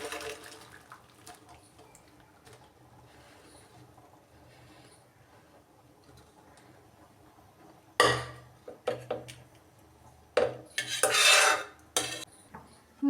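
After a long near-silent pause, cooked food is tipped into a metal strainer bowl, bringing sudden loud clatters of pot against bowl and a rushing splash of water in several bursts near the end.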